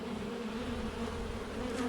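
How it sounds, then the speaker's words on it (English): Wasps and honeybees buzz around a beehive entrance in summer, a dense, continuous low drone of many insects close by, steady throughout. "Whilst I was just working with Abby, I got joined by several wasps, all trying to get in."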